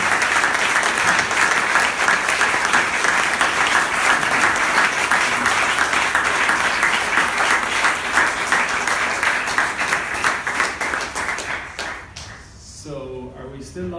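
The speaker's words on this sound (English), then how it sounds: "Can we get a round of applause for Chuck?" A crowd at a live podcast recording applauds a speaker, steady dense clapping for about twelve seconds before fading out as a voice starts talking.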